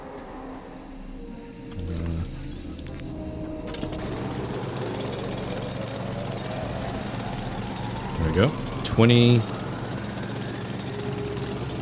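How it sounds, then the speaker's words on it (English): Drilling rupidium in the video game The Alters, a sustained mechanical grinding drone with rising whine and rattling bursts near the end, loud and continuous while someone talks briefly over it. "Alright, let's drill the rupidium."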